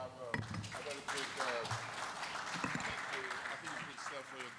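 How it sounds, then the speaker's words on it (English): Audience applause for panelists at a forum on blue-collar employee welfare, a dense patter of clapping under a voice speaking over it, moderately loud throughout. "Please give my panelists a round of applause"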